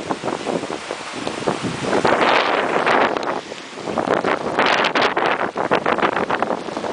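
Strong, blustery wind roars across the microphone in surging gusts, rumbling and hissing continuously with no pause.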